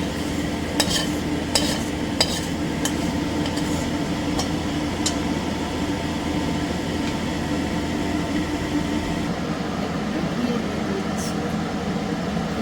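Fried spice paste is stirred into a pot of winter vegetable khichdi, giving a constant loud sizzling hiss with scattered clinks of a spoon against the pot, a few of them early, others later.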